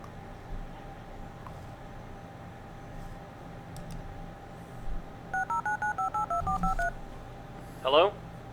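A phone number is dialed on Ray's smartphone in a video game: about nine quick, evenly spaced keypad tones in a row over quiet ambience, followed by a short chirping blip.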